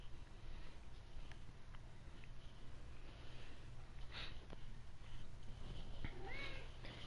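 A cat lets out a faint, short meow near the end of a quiet indoor stretch, with soft background hiss and a few small rustles before it.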